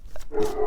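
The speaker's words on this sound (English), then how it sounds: "Sorry for my dogs." Dogs bark briefly indoors, one or two short yips at moderate level behind a quiet room.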